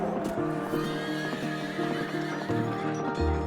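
A horse neighs with a loud, shrill whinny, then gives shorter snorts and nickers, with faint hoof clops beneath and no voices.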